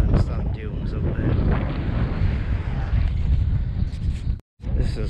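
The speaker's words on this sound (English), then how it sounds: "It's very windy though, I don't know if you can hear me, I've heard sound of breeze." Strong wind buffets the microphone on a deserted beach at Wells-next-the-Sea, a loud continuous roar with gusty swells and a brief dropout near the end.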